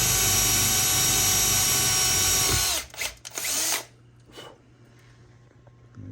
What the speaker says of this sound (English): New drills are a lot nicer.